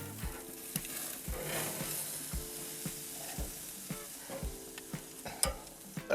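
Carrot-glazed chicken sizzling on a grill over the flame, a steady crackling fry with sharp pops and scraping clicks of tongs at irregular intervals, close up and with no voices.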